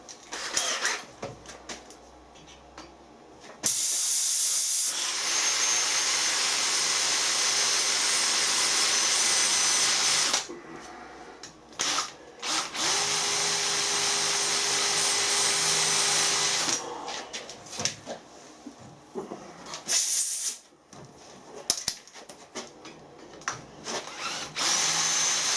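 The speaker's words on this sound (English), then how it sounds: "And a 5mm tapping drill." Close, loud power drilling into metal with a 5mm tapping drill on a traction engine model's barbecue repair, a long steady whine broken by a few pauses and restarts, with no talking.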